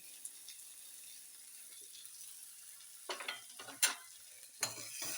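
Onion fries in oil in a home kitchen while being stirred, a soft continuous sizzle punctuated by several sharp scraping stir strokes in the second half, close and without talk.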